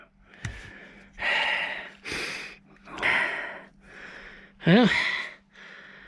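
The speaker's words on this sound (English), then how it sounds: "I'm puffing and panting. That was a fight." A man puffs and pants heavily after a struggle with a Corvette C4 ignition switch, several loud breaths in a row with a brief grunt, close to the microphone and with a word spoken at the start.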